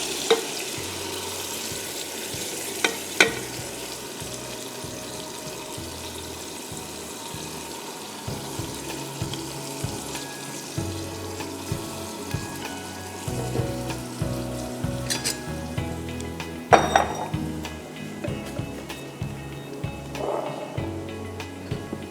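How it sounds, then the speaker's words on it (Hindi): Marinated mutton fries with tomatoes in a pressure cooker pot, a steady soft sizzle and crackle close by, with occasional stirring scrapes and clinks over a low hum and no talk. "अब मैं इसमें ये मैरिनेटेड मटन डाल रही हूँ।"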